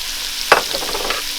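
Apples, celery and onions sauteing together in a pan that previously held sausage, giving a steady close sizzle with a sharp stir or scrape burst near the middle and softer clatter afterward.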